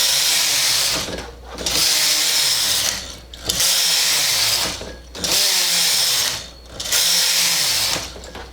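A machine knitting carriage is pushed back and forth across the needle bed with its brushes down, working several rows: long whirring strokes broken by brief pauses at each turn, close and steady.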